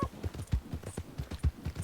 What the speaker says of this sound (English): I like how Josie feels even though she's a cheaper horse. She just rides well